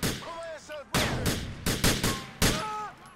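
Bursts of gunfire in GTA IV crack out in quick clusters, several loud shots following one another in a rapid string, with voices speaking in the game between them.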